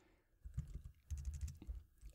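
Quick bursts of keystrokes on a computer keyboard as a network command is typed, two short clusters of close, light clicking with a pause between.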